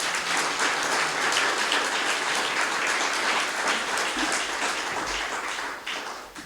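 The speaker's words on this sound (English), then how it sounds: "applause for the committee, please" Warm, full applause from the audience at an Islesboro Forum evening talk, given for the organizing committee, is a continuous close patter of many hands that holds evenly and tapers slightly at the end.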